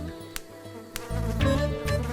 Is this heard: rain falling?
no